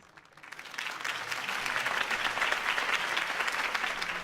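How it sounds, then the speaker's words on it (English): Crowd applause swells after a political campaign speech by Harvey Dent in the Batman Telltale game, rising from quiet into steady, dense clapping that holds loud and continuous to the end. "If only Mr. Wayne, my campaign's largest backer, could have heard that applause"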